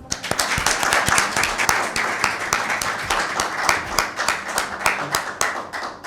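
Studio audience at an Easter special of a Christian family talk show gives loud, sustained clapping, dense and steady for the whole stretch with sharp individual claps standing out near the front.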